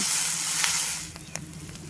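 Scrambled egg fries with vegetables in a hot pan, producing a close, steady sizzle and hiss with a few faint clinks and stirring scrapes.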